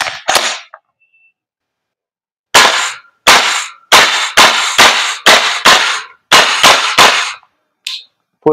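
A VFC URGI 11.5 airsoft gas blowback rifle fires on semi-auto outdoors: a loud, sharp crack with metallic bolt clack, then a pause, then about ten rapid single shots in a steady rhythm, with one final shot after a short gap.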